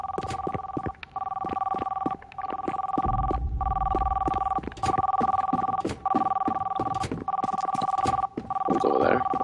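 A Roblox in-game phone keeps ringing in a continuous two-tone electronic trill, loud and near, with brief dips in the ring and a low thump partway through.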